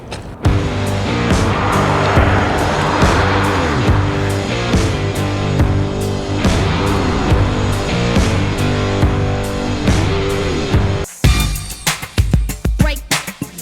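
A car races past a tight-turn road sign with a loud, sustained engine roar that rises and shifts in pitch, then breaks into sharp, choppy bursts near the end.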